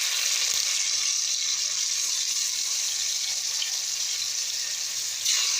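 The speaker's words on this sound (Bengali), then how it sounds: "এবার এই ম্যারিনেট করা চিকেনটাকে আমি তেলের মধ্যে শুধু ফ্রাই করব।" Marinated chicken fries in hot oil, giving a continuous bright hiss that stays even throughout, with a faint clink near the end.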